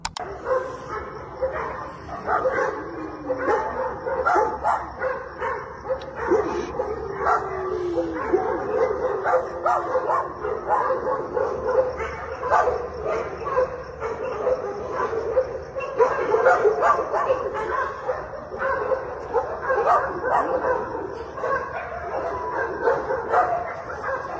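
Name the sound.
dogs barking and whimpering at night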